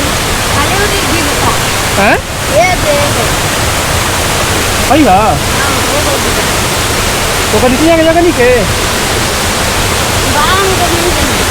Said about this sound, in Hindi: तो बहुत छोट झरना बा